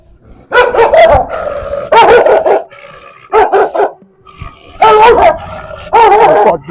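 Dogs bark loudly and close by in several short, irregular bursts, with low growling and quieter pauses between them.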